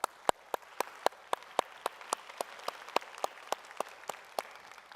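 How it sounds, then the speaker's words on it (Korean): A church congregation at a Sunday worship service claps in blessing, a steady and evenly spaced run of about twenty crisp claps in unison, moderately loud in the hall. "권면의 박수 또 축복의 박수 부탁드리겠습니다"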